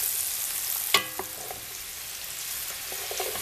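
Feijoada beans and other ingredients are stirred in a pot, with a steady soft sizzle and bubbling, one clear clank of the spoon against the pot early on, and no talking.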